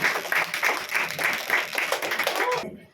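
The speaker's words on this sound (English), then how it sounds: "Please give us a very good clap" Audience clapping at a parent engagement programme at a preschool, a steady patter of many hands with periodic surges under faint voices, cutting off abruptly near the end.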